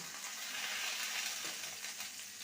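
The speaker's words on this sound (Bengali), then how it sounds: "দু মিনিট ভেজে নেব আর শিমগুলো খুব কচি শিম" Young flat beans and potatoes frying in a pan, a steady close sizzle with faint crackling and no breaks, alone without voices.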